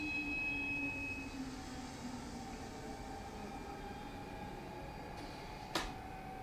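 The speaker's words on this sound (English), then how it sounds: "The train is now arriving at Cartanica Station." A train in Final Fantasy XV rolls into Cartanica Station, a low rumble of rail cars with faint tonal whines that fades gradually, ending in one short metallic clank, with no talking.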